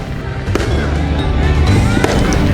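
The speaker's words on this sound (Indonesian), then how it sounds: "warga Cali di Kolombia meluncurkan kembang api dan membakar boneka-boneka" New Year's Eve fireworks in Cali, Colombia, crackle and pop in a loud, continuous volley. Sharp bursts stand out over a dense roar of explosions.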